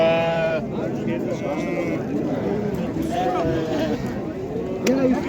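Ewes and lambs bleat at a livestock market in Qarshi, several close, wavering calls scattered through the stretch, with people talking steadily around them.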